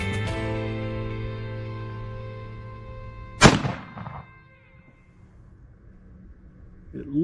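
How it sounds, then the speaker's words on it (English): Henry Golden Boy lever-action rifle in .30-30 fired once at a target range: a single sharp, loud report midway that decays quickly, following a sustained tonal hum and leading into quiet. "before I squeeze off the trigger on the first round"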